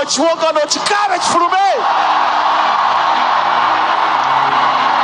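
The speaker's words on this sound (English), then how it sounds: "open your mouth and scream it out" A church congregation at a revival service screams all at once, loud shouting voices rising for the first two seconds and then merging into a sustained, dense roar of crowd noise that holds steady to the end.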